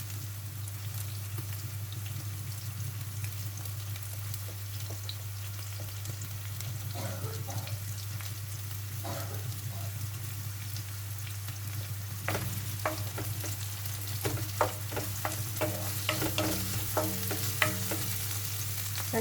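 Onion and garlic sizzle steadily in a hot pan for a bold home-cooked squash and sardine sauté, with a low constant hum beneath and sharper scraping stirs and clinks growing busier in the second half.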